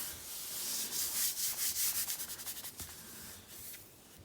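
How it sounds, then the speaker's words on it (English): Soft rhythmic rubbing of a hand gently pressing decoupage paper flat onto a surface, a series of quiet swishing strokes, close and alone. "now I'm just gently pressing it in place"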